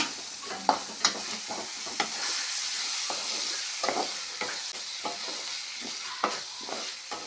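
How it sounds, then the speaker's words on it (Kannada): Roasted kadachi kai stirred into a hot tempering, a steady sizzle and hiss with scattered scrapes and knocks of the spoon against the pan, close and alone without talk. "ಇದನ್ನು ಎಲ್ಲ ಚೆನ್ನಾಗಿ ಒಗ್ಗರಣೆ ಒಳಗೆ ಮಿಕ್ಸ್ ಮಾಡಿಕೊಳ್ಳಿರಿ"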